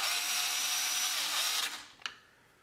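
A cordless power driver runs in a steady high whine while driving screws into the steering wheel trim of a 2020 Chevrolet Corvette C8 carbon fiber steering wheel, then spins down and ends with a single sharp click.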